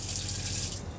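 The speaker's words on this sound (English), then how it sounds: "we're bringing all the water out the fresh water tank into the hot water tank" Water rushes steadily through the plumbing of an Autocruise Starburst motorhome as the pump primes, moving water from the fresh water tank into the hot water tank. The hiss is soft and continuous, with a low pump hum beneath.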